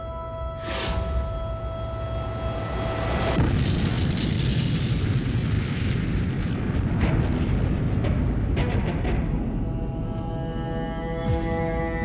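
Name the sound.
Little Boy atomic bomb exploding over Hiroshima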